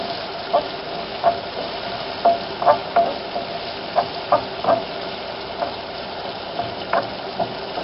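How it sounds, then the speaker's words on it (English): Garlic sautéing in a pan for chicken pinakbet, a steady low sizzle with regular spatula taps and scrapes every second or so, close and fairly loud, no speech. "let's just saute this for another like 30 seconds at least."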